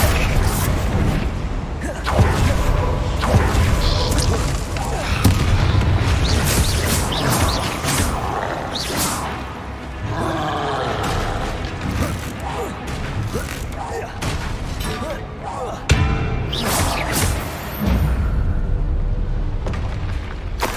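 Bombarda explosion spells go off during combat in a fantasy wizarding game, with repeated booming blasts and crashing impacts scattered through the fight. A voice speaks at times over the clamor.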